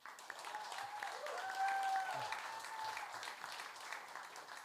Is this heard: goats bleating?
no